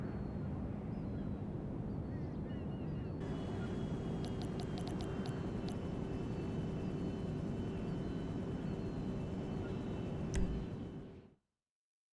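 A helicopter flies in the Grand Theft Auto V game during a flight school lesson, a steady, loud engine and rotor drone that holds for about eleven seconds before cutting off abruptly, with no talking.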